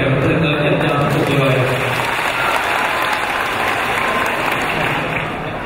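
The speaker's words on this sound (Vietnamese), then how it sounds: "cùng dành một tràng pháo tay lớn dành cho một người." Loud, sustained applause from a church Christmas audience fills the whole stretch, with a voice briefly audible at the start before the clapping dominates.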